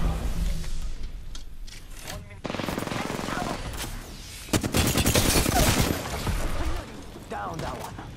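Heavy gunfire in a video game: sustained bursts of rapid automatic shots, loud and close, swelling in the middle and easing toward the end, with a voice talking over the firing.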